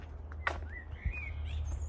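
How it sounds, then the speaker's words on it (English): Birds singing at a tree nursery among pines and maples in the evening, a few short chirps and thin whistled phrases at moderate distance over a steady low background hum. "At this time of the evening, the birds are singing."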